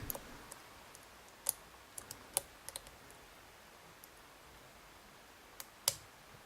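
A lock pick works the pins of a dimple lock, giving faint, sparse, crisp clicks, sometimes in quick pairs and sometimes with long quiet gaps between them.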